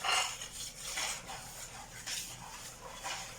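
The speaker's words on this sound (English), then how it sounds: "I'm going to mix this in and give it a whisk." A whisk scrapes and taps rhythmically against a bowl in quick, steady strokes, close by and fairly quiet.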